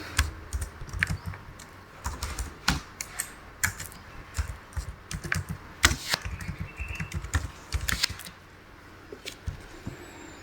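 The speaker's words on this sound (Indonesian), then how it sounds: "Lalu ketik kode rekening." Steady typing on a computer keyboard while entering figures into an Excel spreadsheet, with irregular bursts of close, crisp key clicks and short pauses between runs, and no talking.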